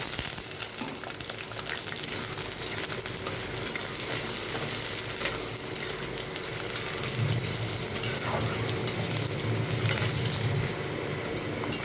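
Potatoes fry among softened onions in a pan as part of a mixed vegetable curry with prawns. A moderate crackling sizzle runs throughout, with scattered clicks and scrapes from stirring.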